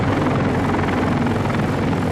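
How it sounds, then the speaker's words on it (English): Helicopters land at the embassy compound in Saigon during the evacuation, a loud, close, continuous rotor thrum and engine roar that holds steady without a break. "By late afternoon, the chopper flow at the embassy really started."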